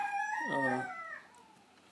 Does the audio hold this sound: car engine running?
no